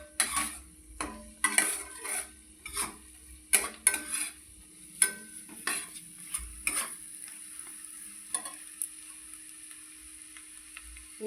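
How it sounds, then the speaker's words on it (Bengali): Onions fry in a pan for prawn pulao, with soft sizzling under a string of sharp, irregular spoon-on-pan stirring clinks that thin out toward the end, with no voices. "পেঁয়াজগুলো একটু লাল করে ভেজে নেব।"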